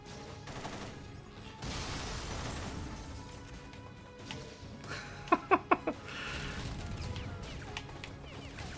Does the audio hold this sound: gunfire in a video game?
yes